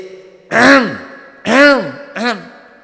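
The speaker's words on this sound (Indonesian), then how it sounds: "Dehem dhisik." Three vocal throat-clearing grunts in a row, close and fairly loud, each rising and falling in pitch with short pauses between.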